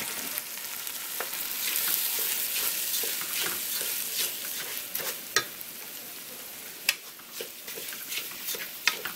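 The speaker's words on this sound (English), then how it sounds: "I'm going to add my rice. I'm going to like fry it up a little bit." Rice frying in a pan with coloured oil for yellow rice with peas and coconut milk: a soft, steady sizzle with scattered crackles and a few sharp clicks of stirring toward the end.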